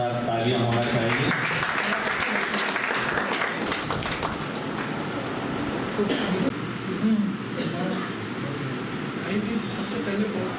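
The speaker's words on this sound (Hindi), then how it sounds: "जोरदार तालियां होना चाहिए।" Applause from a gathering at a Hindi-language public event, a steady roar of many hands clapping that runs for about ten seconds, mixed with crowd voices and a loudspeaker voice over the top.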